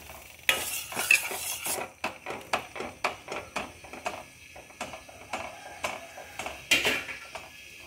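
Halva mixture stirred and fried in a pan, a spoon scraping in a steady rhythm of close, repeated strokes over a soft sizzle, with no talking.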